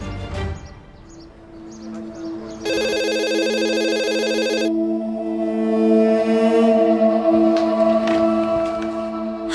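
Telephone ringing indoors with a repeating electronic ringtone, steady tonal pulses looping at moderate loudness with no talk over it, in a domestic drama scene.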